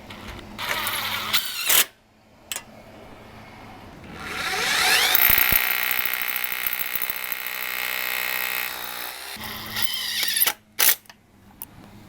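Power drill driving screws into the track of an outside-mounted motorized retractable screen, with a sustained whirring burst for several seconds between a few shorter clicks and brief drill spurts, heard close and alone.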